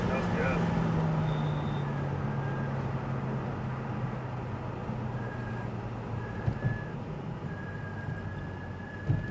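A Lamborghini Huracan lifting off the throttle and braking on a race track: the engine note drops and fades under steady road and wind noise, with a voice faintly present.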